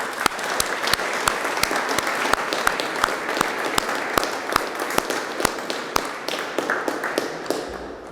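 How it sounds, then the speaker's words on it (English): Steady, dense applause from an audience at the Sherwood Observatory time capsule event, continuous clapping with a few sharper hand-claps standing out from the wash. "I think we owe them a round of applause"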